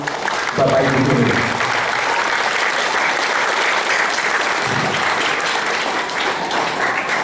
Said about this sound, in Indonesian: Tepuk tangan untuk Bapak Ibu guru.